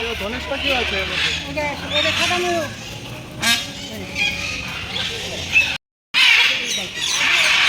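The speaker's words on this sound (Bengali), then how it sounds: "বাবা দেখ পাখিগুলি কেমন ডাকছে দেখ" Birds at Alipur zoo in Kolkata, hornbills among them, give loud repeated squawking, quacking calls through most of the stretch, close by. People talk over the calls.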